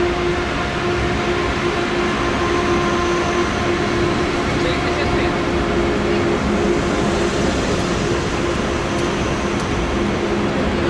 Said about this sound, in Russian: наконец-то поезд пришел